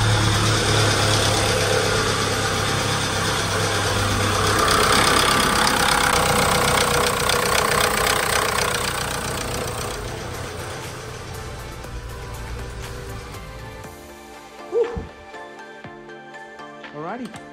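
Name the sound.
VW Golf GTI MK5 engine running, noisy chain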